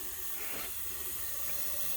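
Water runs through the injector of a miniature railway steam locomotive, making a steady, broad rushing hiss that stays even and fairly faint throughout, with no talk.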